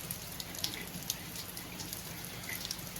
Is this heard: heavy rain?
yes